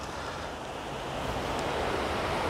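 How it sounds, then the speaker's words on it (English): Ocean waves wash steadily onto a sandy beach. The surf makes a continuous, fairly loud hiss and rumble, mixed with light wind noise, and no voices are heard. "Sound of the waves."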